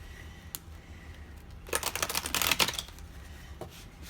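Tarot cards are shuffled close by, with a short, dense flurry of rapid riffling clicks in the middle, set off by a few isolated taps and card snaps before and after.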